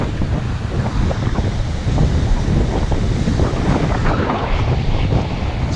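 Strong wind gusts across East Beach, blowing sand past with constant rushing noise and surf-like roar throughout, loud and steady with no voices.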